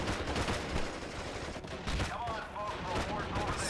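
Dense, continuous battlefield gunfire and explosions from the WWII strategy game Steel Division: Normandy 44. Rattling bursts and booms overlap into a steady roar, with a voice speaking beneath them.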